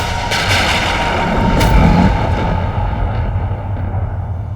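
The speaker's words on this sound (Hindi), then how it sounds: "ये कैसी गड़गड़ाहट है?" Deep rumbling thunder sound effect from a Hindi mythological TV drama set at Kailash, a loud, sustained low roll with a swell in the middle, heard alone.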